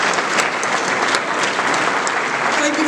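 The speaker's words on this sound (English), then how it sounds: "Let's give them a round of applause for what they did." A crowd at a memorial highway dedication ceremony gives a sustained round of applause, steady and full, with dense clapping continuing evenly throughout the clip.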